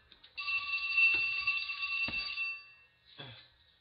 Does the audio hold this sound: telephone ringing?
yes